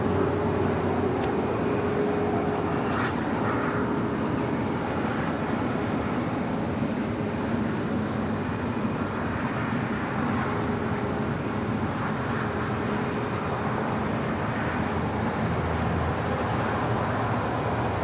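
An airliner, United flight 2434, takes off from runway 25 right at LAX, giving a steady, loud, broadband jet roar that holds level for the whole stretch, with no voices.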